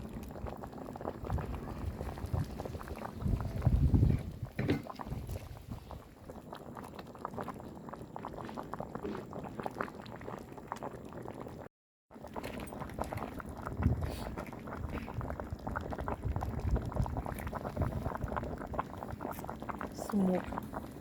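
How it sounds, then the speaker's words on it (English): Jamaican red peas soup with pig tail and cow skin cooking in a covered pot, a continuous bubbling boil heard close with a short dropout partway through, while people talk over it. "So we are just going to cover this now and allow this to continue to cook."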